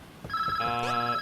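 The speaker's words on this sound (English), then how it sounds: "Phone?" In The Touryst video game, a telephone rings with a bright, electronic, steady ringtone that comes in clearly over faint background sound.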